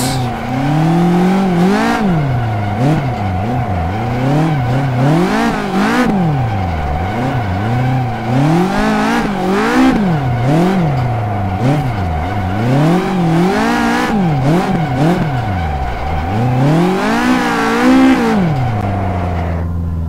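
Caterham 620R driven hard around a kart track: a loud, close engine revving up and down continuously through gear changes, with repeated acceleration surges and some tire squeal.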